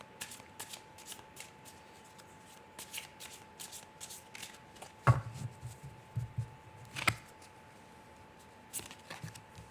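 Tarot cards being shuffled by hand in a quiet room: soft riffling runs in short bursts, with two sharper card snaps or taps midway, close and fairly quiet, with no talking.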